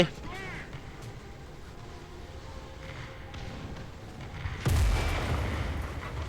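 A tank cannon in War Thunder fires with a single heavy boom about two-thirds through, followed by a rumbling tail, set against low engine noise and game ambience, with a voice speaking earlier in the clip.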